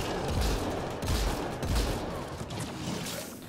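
Combat rifle fire in the game Mass Effect Andromeda, with three or four heavy bursts of shots about half a second apart over constant loud combat noise.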